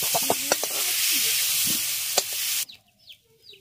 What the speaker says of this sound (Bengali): কুমড়োটাকে সোনালি কালার করে ভেজে নিয়েছি।